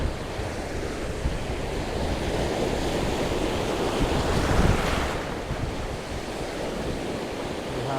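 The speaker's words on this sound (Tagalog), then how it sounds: "May dating ang hangin." Strong wind gusting by the sea on a fishing outing, roaring steadily across the microphone with crashing surf beneath, loud and continuous with no talk.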